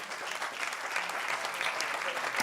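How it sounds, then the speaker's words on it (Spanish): Church congregation applauding during a sermon, a steady, even patter of many hands clapping at moderate distance, with no voices over it. "Le da un aplauso al Señor."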